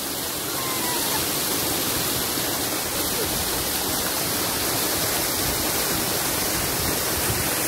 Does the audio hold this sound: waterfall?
yes